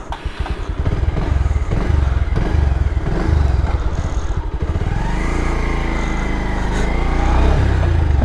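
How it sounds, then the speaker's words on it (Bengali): A used Bajaj Pulsar motorcycle with about 28,000 km on it, heard up close as its engine revs and pulls away, a loud, steady throbbing roar that rises as it accelerates. "তো বাইকটা একটু হালকা রাইড করি"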